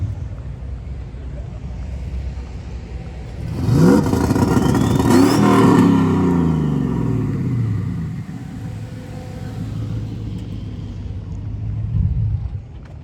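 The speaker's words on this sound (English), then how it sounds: "Gonna turn up my two-step a little bit to get a harder launch." A truck engine, a stock 4.8 LS, roars and revs hard on a two-step for a drag launch for several seconds, rising and then settling back to a low rumble, with a brief rev near the end.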